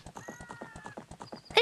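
A horse trots in The Legend of Zelda: Ocarina of Time, its hooves clip-clopping in a quick, even rhythm while a faint synthesized tone hums, ending in a short sharp burst as the riding stops.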